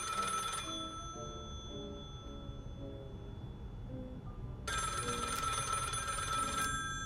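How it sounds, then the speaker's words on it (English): A telephone bell rings loudly in a horror video game, with two bursts of ringing at the start and end separated by a quieter stretch of ambient music. "the silence broke with a sudden phone call"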